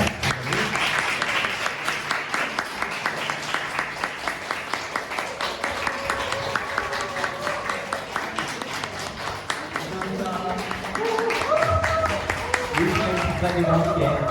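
Sustained applause from an audience at a book talk greeting the author as she comes out, dense steady clapping that runs throughout, with voices and movement underneath and some murmured talk toward the end.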